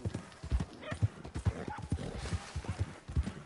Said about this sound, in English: That horse looks like a fine traveling companion.